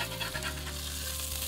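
Smash burgers sizzling loudly on a hot griddle as they are turned with a spatula, a steady close frying hiss with a scrape near the start and no talking.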